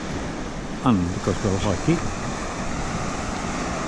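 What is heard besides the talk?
wind blowing at the seaside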